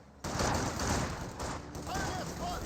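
MG42 machine gun fire in the video game Company of Heroes 2: a dense, continuous rattling burst that starts abruptly and runs throughout, loud and close, with a commentator talking over it.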